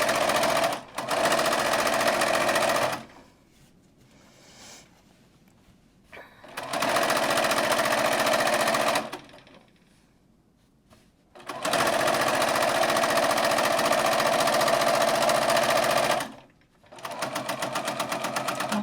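A sewing machine stitches a pillowcase seam in several long runs of steady, loud, rapid whirring, each broken by short quiet pauses.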